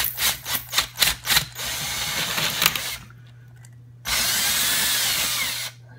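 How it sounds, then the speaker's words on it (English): A power drill with a half-inch spade bit bores into a coconut, starting with short revving bursts, then a steady grinding whine that pauses briefly and resumes for a second sustained run; close and loud, no talk. "So we're just gonna try to drill it in."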